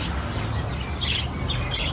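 Pet bird in a home cage chirping in short, faint tweets against a steady, noisy background hum, with no voices.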